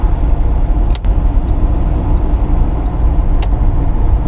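A car drives along a road, with a loud, steady rumble of engine and tyre noise filling the interior, and two faint clicks along the way.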